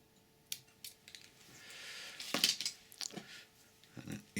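Small scissors snip off craft material while tying a grey duster fishing fly, giving a few faint, quiet clicks and a soft rustle at close range.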